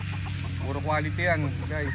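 Gamefowl stags cluck on a farm, their short, wavering calls rising and falling throughout and mixed with someone speaking over them.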